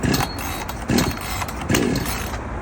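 An Oleo-Mac GSH51 chainsaw engine briefly catches on repeated starter-cord pulls. Three rasping bursts come evenly spaced over a loud, continuous hiss, close to the microphone, with no talk.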